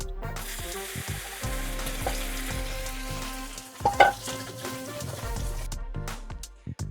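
Beef sizzles and fries steadily in a pan for lunch, with a loud stir or clatter midway and no talking.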